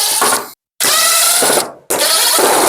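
Power screwdriver backing screws out of a Samsung dryer panel, two loud whirring bursts separated by a brief silence, then a third starting, close up with no talk.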